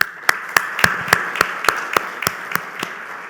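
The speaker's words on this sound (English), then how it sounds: "a big round of applause goes for all the NIA students" An audience applauding the NIA students at the welcome address of the 19th Insurance Summit, October 2023: about a dozen evenly spaced, rhythmic claps at moderate distance, with no talking over them.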